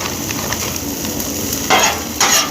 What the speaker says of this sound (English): First thing we're going to add is our frozen veggies